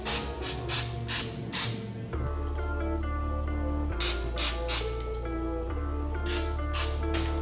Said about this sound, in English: We're gonna spray the top of the chicken.